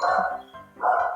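A house dog barks twice near at hand, probably reacting to a visitor at the door, in loud, harmonic woofs separated by a brief pause.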